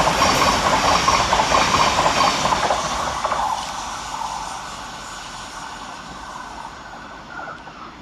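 A Thameslink Class 700 electric multiple unit runs through Anerley railway station, loud and close at first with rushing wheel noise and clatter, then steadily fading as it moves away, with no talking.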